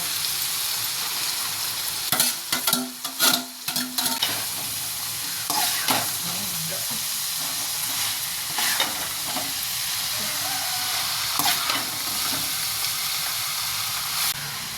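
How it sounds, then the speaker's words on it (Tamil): Broad beans sautéing in a pan with curry leaves, a steady bright sizzle and hiss throughout, broken by scraping stirs and clanks of a utensil against the pan, close and fairly loud with no talking. "இப்போ அவரைக்காய் போட்டு வதக்கிக்கலாங்க."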